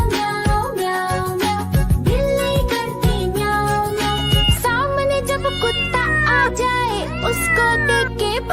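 In a children's rhyme, a singing voice imitates a cat's meow over and over, with bright, rising and falling calls set against a busy musical backing.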